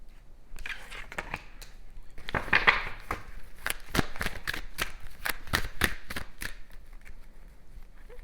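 Tarot cards shuffled at close range in a steady run of crisp, evenly spaced riffling slaps and flutters, moderately loud over faint background hiss, with no speech.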